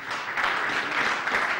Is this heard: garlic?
no